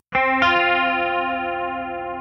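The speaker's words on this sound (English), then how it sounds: "Let's do it with chorus." Electric guitar played through a chorus effect: a strummed chord rings out, struck again shortly after, then sustains with a shimmering, slightly wavering tone, loud and alone with no voices.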